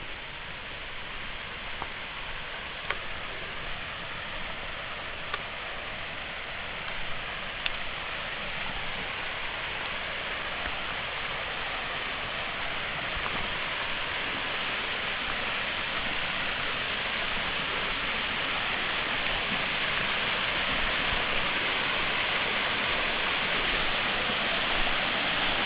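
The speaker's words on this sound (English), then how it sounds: "Can hear some water." Water rushing over Fairy Falls, a waterfall in the Blue Mountains bush: a broad, steady hiss of falling and flowing water that stays constant and slowly grows a little louder, with no voices.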